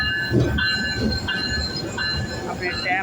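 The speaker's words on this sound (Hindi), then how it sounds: "जेलम शहर स्टेशन पे पहुंच चुकी है जी के रहमान बाबा एक्सप्रेस" Rehman Baba Express pulling into Jhelum city station in Pakistan, loud and close, with rumbling wheels, clattering cars and high squealing wheel tones ringing over the platform.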